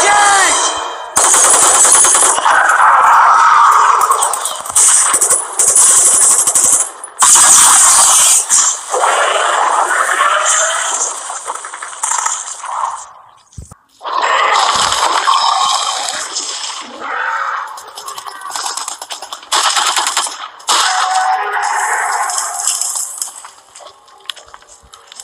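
Machine gun fire in a Jurassic World video game, loud and close, sustained rapid bursts broken by brief pauses, with a second long volley after a short gap.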